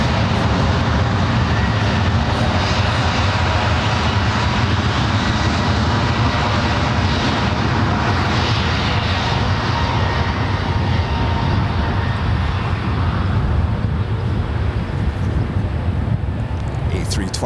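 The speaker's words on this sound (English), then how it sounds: "A321 Neo showing off." An Airbus A321neo roaring on the runway at San Francisco International Airport, a loud, sustained broadband engine rumble that holds steady throughout, heard from a distance in gusty wind.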